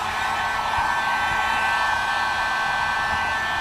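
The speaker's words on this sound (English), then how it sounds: "Got the heat gun on setting number 2," A heat gun set to its second setting warms a Toyota Tacoma TRD panel during paintless dent repair, producing a steady, close, continuous blowing roar with a faint whine and no pauses.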